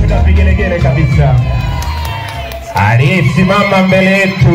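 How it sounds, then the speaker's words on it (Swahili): Crowd at a primary school completion ceremony cheering, whooping and ululating loudly, the noise running continuously and swelling again partway through, mixed with voices. "Makofi na vigelegele kabisa."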